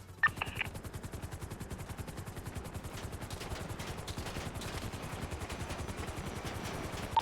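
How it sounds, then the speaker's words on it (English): Heavy, sustained automatic gunfire in GTA V roleplay on NoPixel, a rapid, evenly spaced stream of shots ringing out loud and continuous for the whole stretch with a few sharper bursts, no talking. "We're taking heavy fire."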